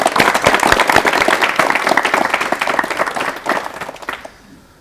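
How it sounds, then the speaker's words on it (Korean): Studio audience on a 1985 KBS Korean talk show applauds loudly to welcome a famous basketball coach, a dense burst of clapping that stays strong before fading out at the end. "박수로 맞이해 주십시오."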